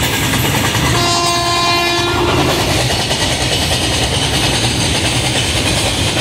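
A goods train passes through Aligarh junction, its horn sounding loudly for about a second early on over a constant, close, roaring rumble of wagons rolling by.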